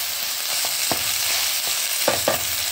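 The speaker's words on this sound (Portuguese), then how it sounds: "Vamos refogar essa carne moída." Ground beef sautés in a hot pan for a simple home dinner, giving a steady close sizzle broken by a few sharp clicks of a utensil stirring against the pan.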